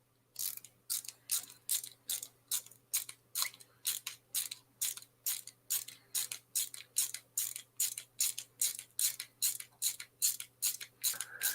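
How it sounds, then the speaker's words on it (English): A ratchet clicks in a fast, regular series of about two dozen sharp bursts, close and clear against a faint hum, with no talking. "And tightening, ratcheting, tightening."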